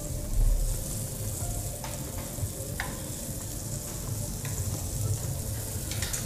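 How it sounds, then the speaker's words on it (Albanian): Eggplant fries in a pan with very little oil, giving a steady close sizzle with occasional light stirring clicks and scrapes, and no talking. "Skuqim patëllxhana."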